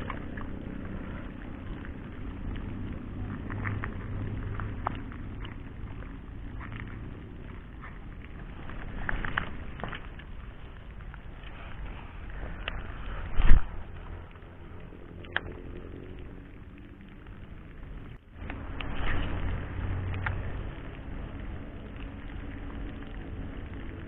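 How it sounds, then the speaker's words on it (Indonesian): Light drizzle patters steadily outdoors at a reservoir during a fishing trip, a soft continuous hiss of fine raindrops with a few brief louder ticks and knocks, no talking. "Ini pas hujan nih, gerimis rintik-rintik kayak gini"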